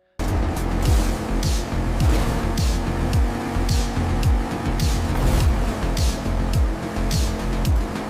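AI-generated night street racing in a Fast and Furious style: cars roar continuously with engine revs, whooshing pass-bys and tire noise, loud and dense throughout.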